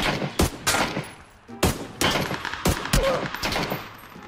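Gunfire in the video game PUBG: a string of sharp, loud shots bursts out in irregular clusters over a few seconds, with a faint voice in the background.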